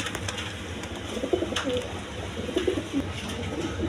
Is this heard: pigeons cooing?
yes